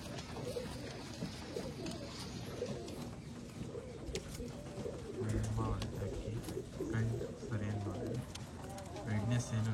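Pigeons offered for sale in Bangalore coo in repeated soft, low phrases close by, while people talk over and around the birds throughout.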